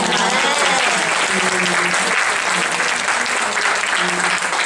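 A congregation at a church testimony gathering bursts into sustained applause, a dense, steady wash of many hands clapping close by with no break.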